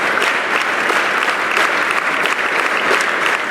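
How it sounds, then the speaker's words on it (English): A congregation claps for Jesus in loud, sustained applause, with many hands blending into a thick, continuous roar close by. "Clap for Jesus"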